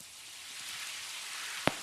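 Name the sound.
rain falling outdoors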